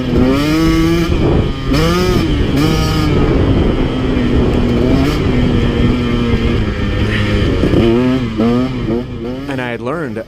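A KTM 150 XC-W or Yamaha YZ250X two-stroke dirt bike engine revs hard and steadily up close through the whole stretch, pitch rising and falling with throttle, ending in a sharper rev toward the end.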